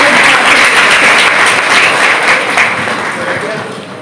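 Loud applause from an audience at a breast cancer awareness checkup camp held in a police lines venue, a dense, steady roar of clapping that slowly fades toward the end.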